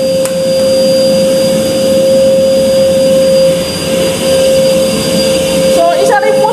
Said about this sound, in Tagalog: isa rin po sa mga investment namin is itong pinaka-vacuum para mas madali po kami makapagtrabaho